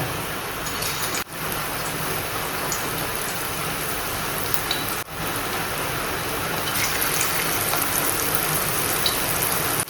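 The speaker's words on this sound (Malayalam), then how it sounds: "നല്ല മഴ പെയ്തുകൊണ്ടിരിക്കുകയാണ്" Heavy rain pours down steadily in a dense, constant hiss that fills the whole scene, with only brief dips in the downpour.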